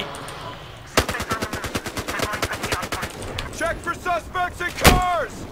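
Rapid automatic gunfire in the shooter game Battlefield Hardline, a loud close burst of evenly spaced shots followed by scattered single shots and metallic clanks, with a voice talking over the end.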